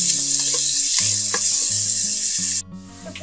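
Chopped onion fries in a pan for prawn malaikari, a loud steady sizzle over stirring scrapes and low background music, cutting off sharply near the end before fainter crackling resumes.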